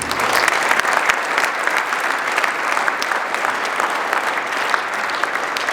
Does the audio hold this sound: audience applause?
yes